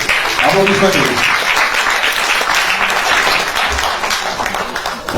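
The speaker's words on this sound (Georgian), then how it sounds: "მეგობრებო აპლოდისმენტები" A theatre audience at a jubilee evening in Tbilisi's Griboedov Theatre breaks into loud sustained applause, an even wash of clapping for several seconds with a voice over it at the start.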